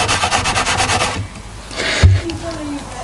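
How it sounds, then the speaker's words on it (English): A fret leveling tool rubbing back and forth across guitar frets, a fast scraping, sanding rhythm up close that stops partway through, leaving quieter handling noise. "the nice thing about doing the fret leveling with this tool"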